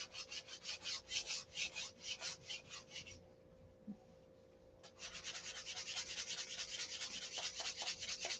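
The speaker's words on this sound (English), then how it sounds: "Get them pen marks sanded off." Sandpaper rubbing wood to take off pen marks in a woodworking build: steady rapid back-and-forth rasping strokes, close and fairly quiet, with a short pause midway before the sanding resumes alone.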